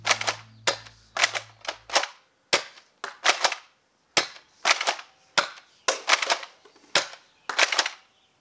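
Adventure Force Super Drum toy dart blaster firing, a rapid series of sharp snapping shots in irregular bursts, close and loud with short silences between.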